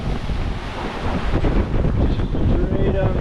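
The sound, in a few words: strong wind gusts while sailing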